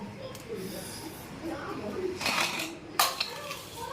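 A pressure cooker is opened after six whistles, giving a brief hiss and a couple of metallic clanks of the lid and pot, close by, with a voice speaking in the background.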